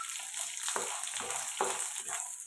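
Radish being sautéed in a pan with urad dal, chana dal, dried red chillies, tamarind, coconut and onion gives a faint, steady sizzling hiss with a few soft stirring scrapes. No one speaks.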